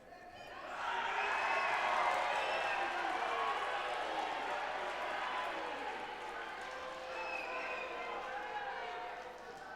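A Polish crowd at a judo match rises into a loud, sustained roar of cheering and shouting in a large arena, swelling quickly then holding and slowly easing off, with faint commentary underneath.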